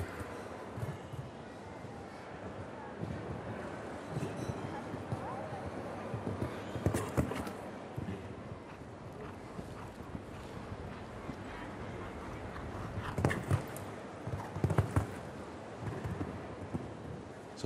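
Hooves clip-clop in a steady galloping rhythm at a distance from a show jumping horse at a 1.60 m grand prix in Hannover, with wind noise and a few louder thuds, over a continuous outdoor background.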